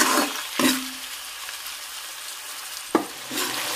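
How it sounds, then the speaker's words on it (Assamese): Local chicken fries with onion, ginger and garlic on high flame, giving a continuous hiss broken by a few loud stirring scrapes. "এতিয়া মাংসখিনি পিয়াজখিনি আদা নহৰুখিনি অকমান ভাজি লওঁ"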